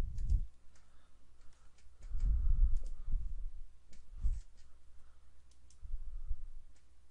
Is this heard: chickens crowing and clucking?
no